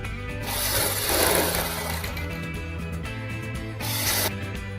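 A sewing machine stitching around the neckline of a suit, running in steady mechanical bursts with a brief pause partway and a final surge, close and alone.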